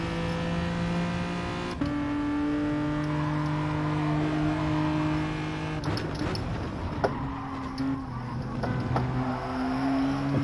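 A race car engine in Gran Turismo Sport drones steadily at high revs, shifting pitch at a few gear changes and accelerating throughout.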